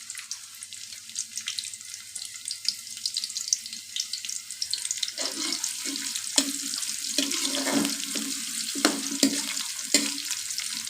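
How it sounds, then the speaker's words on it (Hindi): Sliced onion with ajwain fries in hot ghee, a soft hiss that starts faint and grows busier halfway through, with light spoon scrapes and pops rising over it; no voices. "प्याज हमारे अच्छे से सौते हो गया।"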